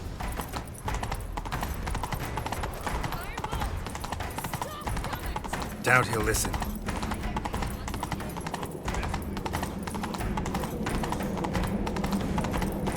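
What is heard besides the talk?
horse galloping hooves in video game The Witcher 3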